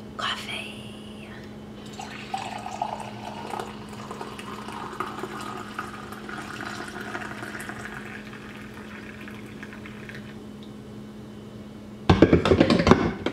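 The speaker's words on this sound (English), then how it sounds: "I always like to be dramatic when I pour my coffee because it bubbles up" Liquid pours steadily into a cup with a soft, bubbling gurgle for several seconds, ending with a louder clatter of handling noise.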